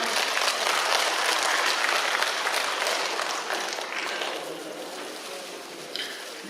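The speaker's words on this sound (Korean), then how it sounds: "여러분 큰 박수로 맞이해 주시기 바랍니다." Sustained audience applause fills a hall at a Parents' Day ceremony in Pocheon, with dense clapping from the seated crowd that stays steady and then slowly tapers.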